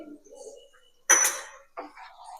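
A spoon scraping and clinking against a pan while stirring edible gum (gund) in water on a low gas flame, one sharp metallic clink followed by a softer scrape, with faint speech before.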